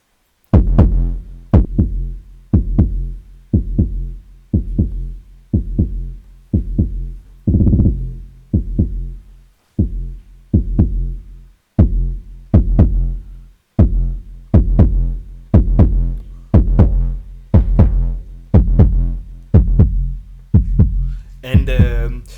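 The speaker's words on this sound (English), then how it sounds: "Put the kick in the digital filter, add some distortion" A kick drum run through the Gotharman Little Deformer 3's digital filter with distortion, hitting as a steady loop of about two dozen loud, heavy, booming thumps, close and dry, with no voices.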